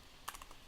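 A few soft keystrokes on a computer keyboard tap out in a quick, faint cluster over a quiet background.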